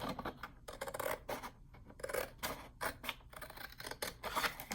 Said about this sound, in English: So we're just going to cut 3 rows in the middle.